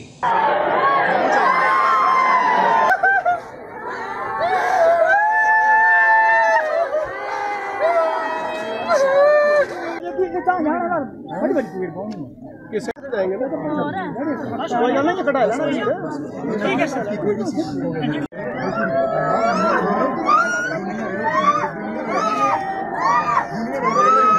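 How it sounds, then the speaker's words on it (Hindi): A crowded village gathering at a fallen soldier's funeral, his body wrapped in the tricolour, fills the air with loud, continuous, overlapping cries and wailing voices, children's shouts among them, dense and close for the whole stretch. "तो पूरे गांव में चीख पुकार मच गई"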